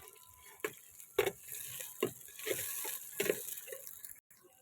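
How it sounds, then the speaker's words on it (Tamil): Onions sautéing in a pan before tomatoes go in: soft sizzling with a series of short stirring scrapes and clicks spaced about half a second apart, fairly quiet, no speech. "வெங்காயம் நல்லா வதங்கிடுச்சு"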